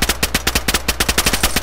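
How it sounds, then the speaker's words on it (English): Rapid, evenly spaced automatic gunfire in a shooter video game, a loud close burst of about fifteen sharp shots in under two seconds. "He shot at me."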